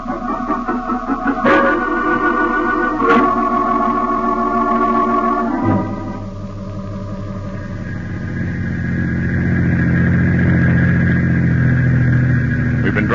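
Car driving as a radio drama sound effect, an engine hum with a gear change or shift partway through, then a steadier rumble that swells slightly louder toward the end, with no voices.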